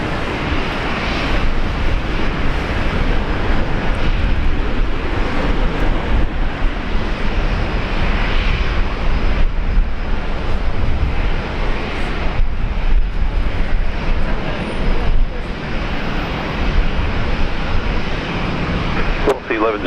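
Fokker airliner engines droning steadily at Brisbane Airport, a broad continuous roar that holds for the whole span while people talk over it.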